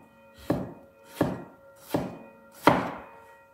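A knife chops through crab for a spicy crab kulambu, giving four sharp, evenly spaced thunks on a cutting board, close and clear with nothing else in the background.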